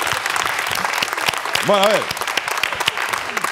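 An audience claps steadily through a Spanish late-night comedy show taping, with a voice speaking briefly over the applause partway through.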